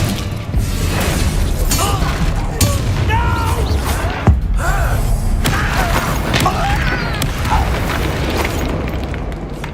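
Bombarda blasting spell explosions and clashing combat effects while battling goblins in Hogwarts Legacy, loud and dense throughout with a sharp burst near the middle, layered over game music and effects.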